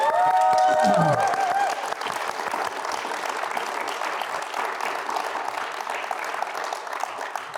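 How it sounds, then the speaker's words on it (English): An audience at a literary careers symposium bursts into sustained applause, a dense wash of many hands clapping that carries on steadily to the end, with a voice speaking over the first second. "Can we just give them a round of applause?"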